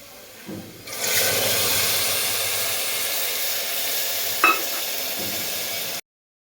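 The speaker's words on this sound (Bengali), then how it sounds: "মশলাটা খুব সুন্দর করে ভাজা করতে হবে" A continuous loud sizzle of spices frying in hot oil with fried onions starts abruptly and hisses steadily, with one brief clink partway through, then cuts off.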